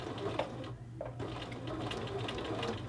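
A sewing machine stitches a shirt collar band seam, its steady, rapid mechanical whirr running close and constant throughout.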